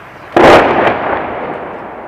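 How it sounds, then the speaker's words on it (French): A loud explosion bursts close by in Avdiivka, Ukraine, as shells, rockets and missiles strike, followed by a second sharp crack and a long rumbling decay with no voices. "Des obus, des roquettes, des missiles qui ne font pas bouger cet homme d'un iota"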